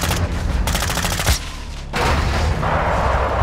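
Loud, close gunfire in Call of Duty DMZ: rapid automatic bursts with a brief gap, then a dense continuous fusillade, with no speech over it.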